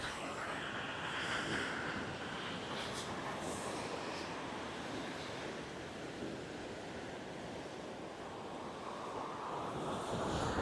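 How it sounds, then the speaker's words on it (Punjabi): Sea waves wash onto a clean, empty beach at India's southern tip, a loud continuous roar of surf with strong wind buffeting the microphone and no voices. "ਇਹ ਆ ਗਈ ਲਹਿਰ ਕਰ ਲਈਏ ਪੈਰ ਗਿੱਲੇ"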